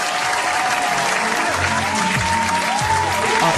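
A short burst of clapping for a guest on a podcast, loud and close and continuous for a few seconds, with a voice and music faintly underneath.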